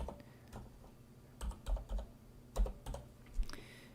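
Scattered keystrokes on a computer keyboard, a few soft clusters of taps, close but fairly quiet against a faint background hum.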